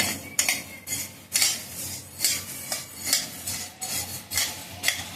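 Coriander seeds dry-roast in a pan, stirred with a utensil that scrapes and rattles in repeated strokes, each scrape rising and falling in a steady rhythm.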